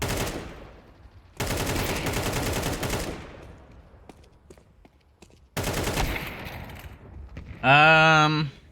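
Gunfire in Counter-Strike 2 while the shooter keeps moving, sounding as two loud sustained bursts of rapid automatic shots separated by quieter stretches with faint clicks, followed by a short bright tonal game sound.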